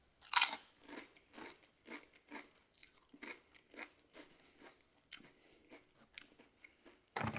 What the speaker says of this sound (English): These, on the other hand, Late July Scorched Sauce Chips,